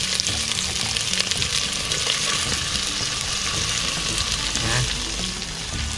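Garlic, onion and fermented shrimp paste sauté in a hot pan outdoors, a loud continuous sizzle with occasional stirring scrapes, while someone speaks briefly over the frying.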